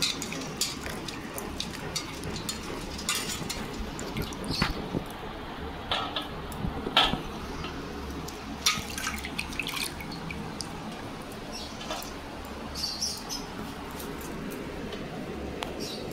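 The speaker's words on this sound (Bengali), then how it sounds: "এবার জলে ধুয়ে নেব।" Vegetables, including peeled ash gourd, are rinsed in water, with irregular close splashes, drips and clinks scattered through a quiet background and no speech.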